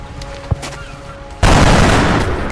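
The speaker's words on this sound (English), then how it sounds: "So I'm going to go ahead and let them just stay put and take shots." Soldiers firing in the video game XCOM Enemy Within: a small click, then a sudden loud blast of gunfire at about one and a half seconds that rings on, slowly fading to the end.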